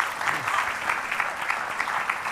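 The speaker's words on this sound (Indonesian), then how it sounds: "tepuk tangan dulu dong" Applause from a television talk-show studio audience, a steady patter of many hands clapping with no voices over it.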